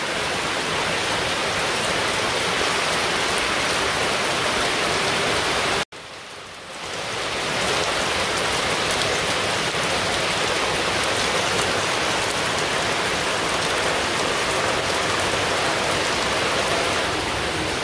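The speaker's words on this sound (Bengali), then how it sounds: "সকালবেলা থেকে বৃষ্টি পড়বার নিচে হালকা হালকা পড়তে তখন জুড়েই নেমে পড়ছে বৃষ্টি" Steady rain falls in a village setting, a dense even hiss of drops on surfaces that cuts out for a moment, then returns just as full and continues uninterrupted, with no voices.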